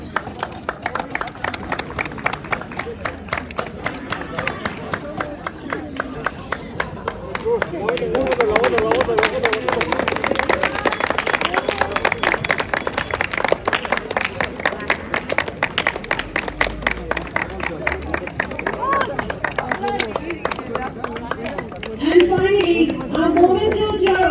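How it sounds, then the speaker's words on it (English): An audience applauds during a ceremony at the final of a sports match, rapid dense clapping that swells in the middle and keeps going for over twenty seconds, with a voice speaking over parts of it. "Ladies and gentlemen, please give a huge round of applause."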